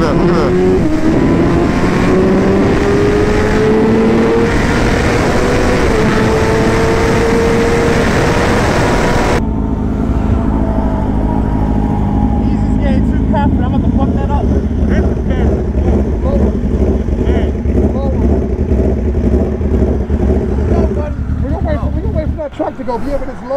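A BMW M1000RR superbike at full throttle, engine note rising in steady loud sweeps and then cutting to rough wind-buffeted rumble, with a voice talking over it.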